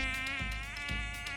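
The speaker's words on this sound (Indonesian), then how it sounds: "ini nyamuk dari tadi kagak habis-habis dah" Mosquitoes whining in a steady, high-pitched drone that rises and falls slightly, close and continuous with no voices.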